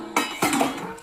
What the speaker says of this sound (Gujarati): વાસણ